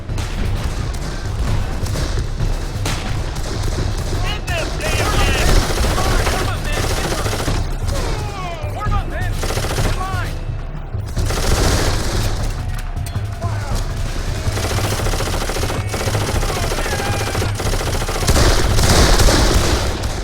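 Rapid machine gun fire in the video game Darkest of Days, set at the Civil War Battle of Antietam, with dense continuous bursts, booms and battle din throughout, loud and close, along with faint voices.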